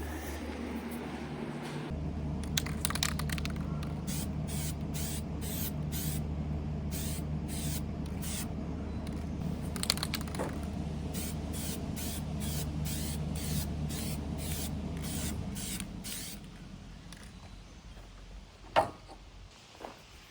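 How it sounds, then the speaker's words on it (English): Repeated short bursts of spray from a spray paint can, hissing in quick pulses close by over a steady low hum, then stopping near the end. "I'm gonna go grab that spray can and I'm gonna spray paint this"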